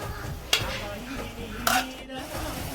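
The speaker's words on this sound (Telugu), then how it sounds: "ఇంకొకసారి గరిటెతో కలుపుకోవాలి." A ladle stirs food in a cooking pot right after tomatoes are added, giving two sharp metallic scrapes and clinks over a low background sizzle.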